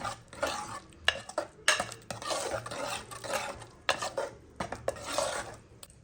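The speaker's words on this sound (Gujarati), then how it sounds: "ટમેટા અને લીલા મરચા લીમડો અને ધાણા તું સરસ મિક્સ કરી દેશું" A spoon stirs tomatoes, green chillies, curry leaves and coriander into dal in a metal pot, with repeated close scraping and clinking strokes in uneven bursts and a faint sizzle beneath.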